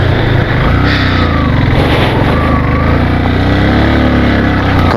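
A motorcycle engine labours loudly and steadily uphill on the rough mountain road from Manali to Spiti, its rider working clutch and throttle with a worn clutch plate, droning close with rumbling low tones and wind throughout.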